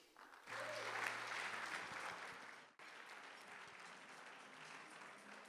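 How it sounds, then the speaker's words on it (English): Audience applause at a youth business awards ceremony in KwaZulu-Natal, a broad sustained roar of many hands that starts abruptly after a brief pause, briefly dips, then carries on steadily along with a low electrical hum. "A big round of applause,"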